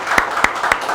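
Audience applause for Scents N Stories, a brief burst of a few sharp, distinct claps standing out over a diffuse room noise.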